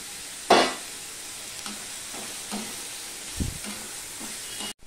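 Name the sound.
grated potatoes added to a pan, frying and stirring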